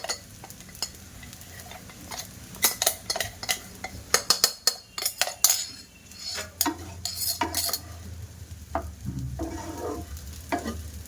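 Sabudana khichdi being stirred in a pan with peanut powder: a spoon scrapes and knocks repeatedly against the metal, in close, irregular bursts over a low sizzle, with no talking.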